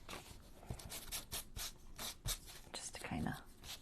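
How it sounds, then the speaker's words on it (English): Sandpaper is rubbed back and forth on a piece of cardstock, making quiet, close, rapid scratchy strokes in an uneven rhythm over a few seconds. "I just kind of work at it and then just kind of maybe throw some sandpaper on it or"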